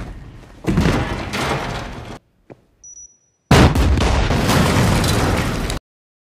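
Gunshot in the film Blade Runner 2049: two long, loud, booming bursts separated by a short near-silence with a faint click and a thin tone between them.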